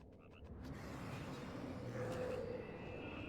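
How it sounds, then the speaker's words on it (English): Frogs croak in the fantasy world of the online game Everquest 2, a soft low chorus of croaks set inside a steady ambient wash, with no voices over it. "Well, the frogs make a noise."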